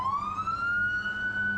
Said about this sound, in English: That's not our siren, by the way. That's an ambulance.